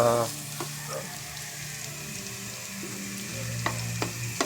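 Onion and garlic sizzle in a hot pan, a soft steady frying hiss with a few light clinks of a utensil, fairly quiet with a low hum beneath.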